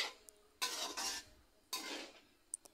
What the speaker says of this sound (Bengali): এবার সবজির সাথে পাস্তাগুলোকে ভালো করে মিশিয়ে নিতে হবে।